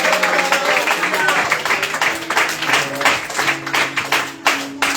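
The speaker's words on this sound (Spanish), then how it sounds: "Denle fuertes palmas al Señor." A church congregation claps hands together in steady, dense applause, many palms striking at once, with voices and singing tones carrying underneath the clapping throughout.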